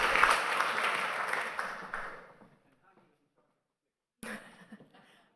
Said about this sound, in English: So give her a big round of applause so we can start.